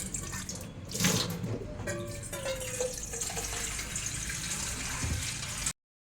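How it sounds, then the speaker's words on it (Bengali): Water pours into a pot of lentils for cooking. A continuous splashing gush sits close and fairly loud, with a brief rattle near the start, and stops abruptly near the end with no talking. "এবারে জল দিয়ে দেবো।"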